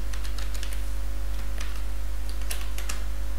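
Quick, light keystrokes on a computer keyboard, close and fairly crisp, tapping in short irregular bursts over a steady low electrical hum.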